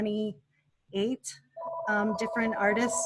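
A telephone rings in a frame shop, short bright tonal bursts sounding between and under a person's talking, close and fairly clear.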